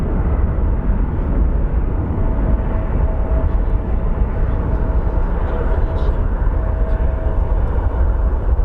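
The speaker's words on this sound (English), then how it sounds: "We have a Delta, it looks like probably a 767 that's taken off." Delta Boeing 767 airliner taking off from Phoenix Sky Harbor, a loud, steady broadband jet engine roar with a faint whine, sustained throughout as the aircraft rolls down the runway.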